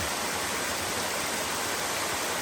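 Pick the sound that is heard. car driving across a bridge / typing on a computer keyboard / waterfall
waterfall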